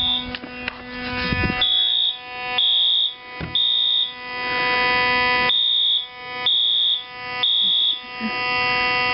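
Fire alarm system under test with two devices, a 9838 and an MT: a steady high electronic tone sounds with repeated short pulsed beeps layered over it in a regular rhythm, loud and nearby, with no talking.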